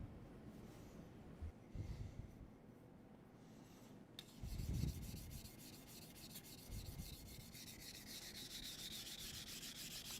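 A Takeda knife being sharpened on a whetstone gives a soft, repeated scraping rub, steady strokes that continue close up and become more even and textured toward the end, with no talk.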